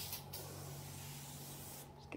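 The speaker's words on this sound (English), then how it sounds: "I'm just gonna spray" Scrubbing Bubbles cleaner is sprayed onto a bathroom sink in two short, close hissing bursts, one at the start and one at the end, with a low steady hum between them.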